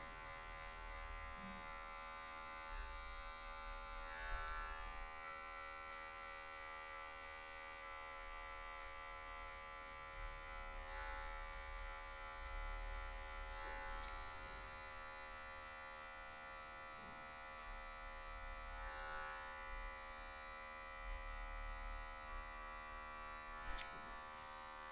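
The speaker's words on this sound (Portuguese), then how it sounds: "Só com a quina da maquininha, só com a ponta da máquina." Electric hair clipper buzzing steadily while cutting afro hair for a low social haircut, worked with just the corner tip of the blade; a constant close-up drone with faint texture changes as it moves along the sides and nape.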